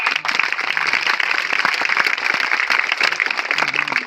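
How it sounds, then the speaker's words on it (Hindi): Loud, steady applause from an audience at a public office inauguration event in Bundi, dense clapping sustained throughout with no talk over it. "मंच पे उपस्थित हमारे बूंदी के लाल और बूंदी के शेर के लिए एक बार जोरदार ताली।"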